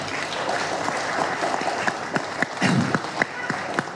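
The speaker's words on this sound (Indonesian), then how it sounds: "tepuk tangan dong" Scattered applause from a crowd at a political party press gathering. It starts as a diffuse wash under background murmur, then a few distinct, louder claps ring out irregularly over the last seconds.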